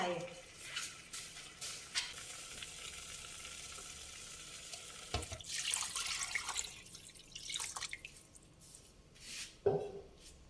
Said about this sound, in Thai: ก็จะเทน้ำทิ้งให้หมดค่ะ เดี๋ยวจะเติมน้ำใหม่เข้าไป